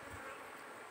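Apis cerana honey bees buzz around a trap box set out for wild colonies. The buzz is a faint, brief, steady hum.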